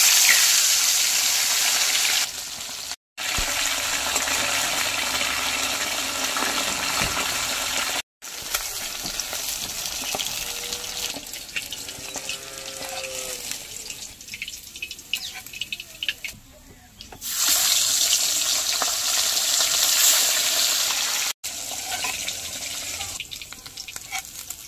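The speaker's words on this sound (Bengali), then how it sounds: "এবার পমফ্রেট মাছগুলি ভালো করে ভেজে নেব তেলে।" Pomfret fish frying in hot mustard oil in a kadai, giving a steady loud sizzle and crackle with brief cuts in the sound and some faint talk mixed in.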